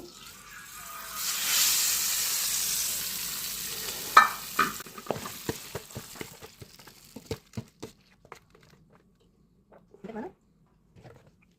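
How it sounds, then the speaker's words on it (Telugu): Hot tempering of mustard seeds and broken dried red chillies sizzles loudly as it is poured into a tomato and red chilli chutney, followed by a run of sharp stirring clicks and taps that fade out, with someone speaking. "పోపు ఇందులో వేసేస్తున్నానండి"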